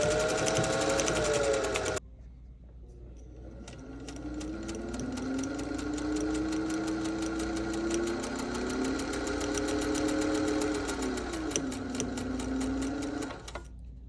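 A vintage Singer 201 sewing machine runs a long top stitch, its steady motor whir and rapid needle chatter filling the space close by after a brief pause at the start, then stopping near the end.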